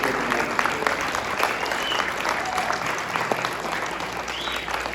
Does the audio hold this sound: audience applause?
yes